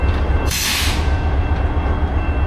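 A freight train with locomotive and railroad cars rolls past quickly and close by, giving a steady, loud rumble of wheels on rail with a brief burst of hissing air partway through.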